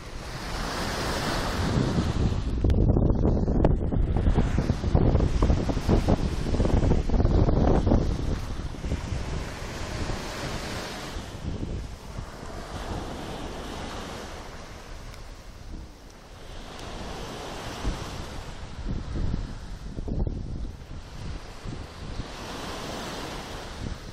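Wind gusts buffet the microphone while sea waves wash onto the shore in slow repeating surges, loud at first and then settling into a steady roar, with no voices.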